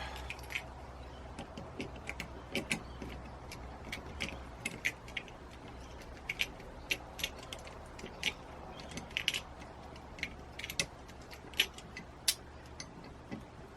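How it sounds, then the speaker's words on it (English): Allen keys clink and tick lightly while being handled during fitting of an archery sight with a first-axis leveling system, small metallic taps scattered irregularly over a low steady hum, close and fairly quiet. "Got me Allen keys ready to go."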